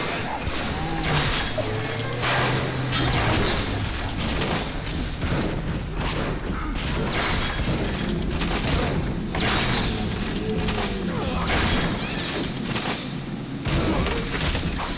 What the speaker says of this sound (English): Incendiary bolt.